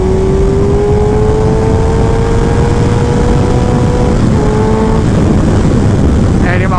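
A Kawasaki ZX14R motorcycle engine pulls hard under acceleration, a loud steady drone whose pitch climbs slowly, heard over heavy wind rush from riding at speed.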